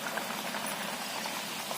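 Thalipeeth sizzles steadily in hot oil in a kadhai, giving a continuous, even frying hiss at moderate volume with no pauses.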